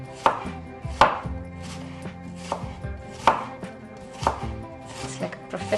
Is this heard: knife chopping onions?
yes